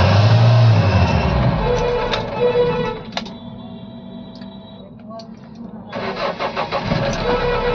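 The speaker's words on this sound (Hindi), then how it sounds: "तो गाड़ी को करते हैं अब स्टार्ट" A Mahindra Bolero Maxi Truck Plus pickup with P1832 and P183F fault codes cranks and catches, then settles into a steady mid-pitched idle, loud and close, with someone speaking nearby.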